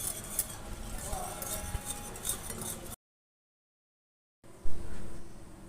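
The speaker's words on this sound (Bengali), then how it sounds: "এবার সমস্ত উপকরণ একসঙ্গে মিশিয়ে নিচ্ছি" A spoon or utensil clinks against a bowl while pitha batter ingredients are mixed with egg, with quick scraping and tapping strokes close by. A short silent gap follows, then more faint clatter.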